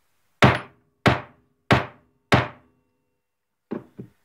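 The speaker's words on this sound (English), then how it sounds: "take your hammer, and give it about 3 or 4 good raps" A hammer raps a Lee Loader hand reloading tool to seat a primer in a .38 Special case: four loud, evenly spaced sharp knocks, then two lighter taps, with silence between.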